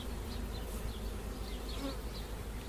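Honey bees buzz from an opened hive during a colony split, a dense, continuous, close-up drone with individual bees whirring in and out.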